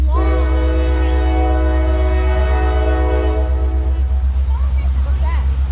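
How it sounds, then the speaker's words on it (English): A long freight train rumbles past near Sloss Furnace, its sustained horn blaring loudly for about four seconds over the heavy rolling clatter of railcars, which continues steadily after the horn stops. "That train's so long."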